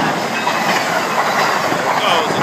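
An Amtrak passenger train between Boston and New York roars past nearby, a broad steady rumble with wheels clattering on the rails.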